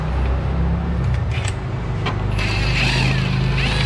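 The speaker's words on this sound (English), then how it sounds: "I'm gonna go ahead and remove those and lower the subframe assembly out of the way." A ratchet works loose the subframe bolts on a Subaru Impreza WRX in a garage, its clicking growing busier and more continuous in the second half over a steady low shop hum, with sharp clicks near and fairly loud.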